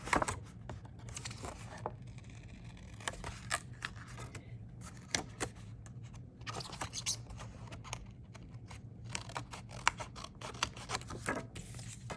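Repeated crisp snips of scissors cutting material, irregular bursts spread over several seconds, up close with quiet background hum.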